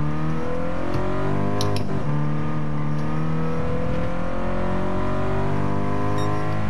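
A 2016 Toyota GT86 engine droning steadily and loud while lapping a track, holding a sustained rising and falling note with no speech over it.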